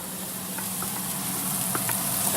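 Onions sauté in a pan for cream of mushroom soup, with a loud, steady, close-up sizzle and a few faint clicks of stirring.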